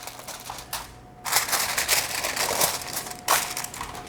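Aluminium foil crinkling and crunching as it is pressed into a baking pan for brownies, with bursts of dry crackle separated by short pauses, close and fairly loud.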